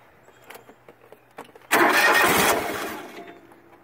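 A Craftsman GT3000 lawn tractor engine cranks with a few faint ticks and clunks, then fires up abruptly into a loud, rough roar that settles slightly lower after about a second.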